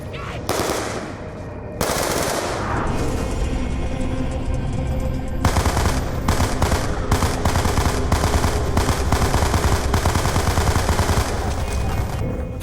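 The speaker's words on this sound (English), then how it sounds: "Flex sprays down Undead Warrior twice" Automatic gunfire in a zombie-mode video game sprays in long rapid bursts, loud and close, with brief pauses between strings of shots and a few faint voices underneath.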